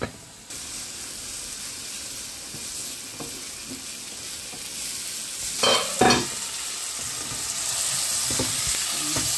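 Karfu fish frying in hot oil in a pan, a steady broadband sizzle with stirring clatters and a couple of louder spatter bursts near the end.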